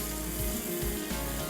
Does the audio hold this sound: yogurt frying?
yes